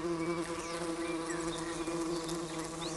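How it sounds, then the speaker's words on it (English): A hornet buzzes near a beehive, a steady droning hum with swooping pitch changes as insects fly past close by, continuous and moderately loud. "And here comes a hornet, I think."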